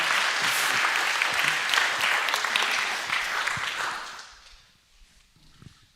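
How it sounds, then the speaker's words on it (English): Members of a church congregation at a meeting applaud together in a full burst that holds for about four seconds, then quickly dies away into near quiet with a few scattered claps. "Let's give Nikki another round of applause."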